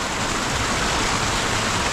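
Waterfall along the Gaumukh trek from Gangotri in the Himalayas, a constant, full rushing roar of falling water, close and steady with no other sounds.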